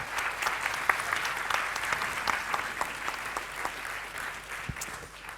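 A conference audience applauds during a talk on digital marketing and ecology: sustained, dense clapping from many hands, steady and fairly close, fading slightly toward the end with no voices over it.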